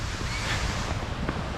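A huge waterfall carving through cliffs gives off a steady, broad rushing roar, with wind buffeting the microphone on top and no voices.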